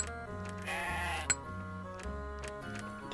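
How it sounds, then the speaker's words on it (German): Sheep bleat several times in the video game Cultures, with drawn-out wavering cries repeating close by over a faint ticking background, and no speech. "Da sind auch noch Schafe."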